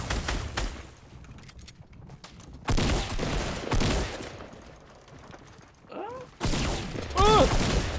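Bursts of gunfire in Fortnite Battle Royale, rapid volleys arriving in separate loud clusters with quieter gaps between them, and a voice heard briefly.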